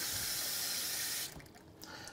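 Water runs steadily from a kitchen tap as two cups are measured out for cooking rice, a continuous loud hiss that cuts off abruptly partway through, leaving quieter room sound.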